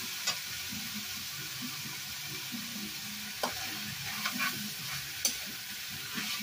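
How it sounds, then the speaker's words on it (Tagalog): Meat sautés in a hot pan with a steady, close sizzle and a few scattered ticks and clicks as it is stirred, with no talking over it. "Guys, ginigisa ko na yung karne, no?"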